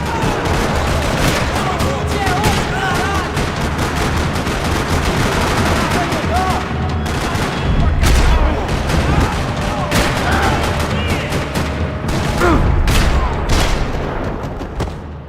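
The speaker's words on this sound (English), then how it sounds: "Another parking lot rattling with gunfire." Heavy gunfire rattles through a parking lot in Max Payne 3, with dense bursts of automatic fire and scattered single shots overlapping loudly, punctuated by a couple of deeper booms over the roughly fifteen seconds.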